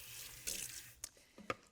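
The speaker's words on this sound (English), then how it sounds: "I'm gonna put about 1/4 to 1/2 cup of water in here and kind of rinse it" Water splashes into a cooking pot of onions and butter for butter chicken pot pie, a short rushing pour followed by a couple of faint clinks, close and fairly quiet.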